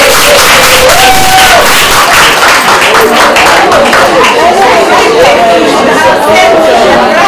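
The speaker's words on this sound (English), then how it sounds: "A round of applause for all of us." At a health education launch event, a crowd claps and chatters together, loud and close, with voices and a melodic tone running under the steady applause.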